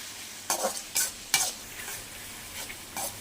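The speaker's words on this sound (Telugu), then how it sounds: "ఆ తర్వాత మనం టమాటాలు అనేది వేసుకుందాం ఇలా నీట్గా కలుపుకుందాం" Tomatoes and onions frying in a pan for street-style egg noodles, stirred in several distinct scraping strokes over a low continuous sizzle, close and with no speech.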